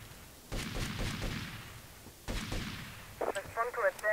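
Gunfire rings out in GTA Vice City: two separate bursts of rapid booming shots, each tapering off, followed by a voice talking near the end.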